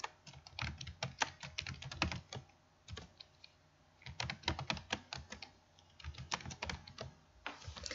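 Typing on a computer keyboard: rapid, close key clicks in uneven bursts with short pauses between words, fairly quiet and with no speech.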